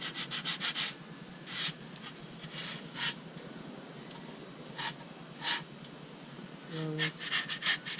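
Wood being sanded by hand with 80 grit sandpaper to round over table edges, heard as irregular bursts of scratchy rubbing strokes with quiet pauses between them.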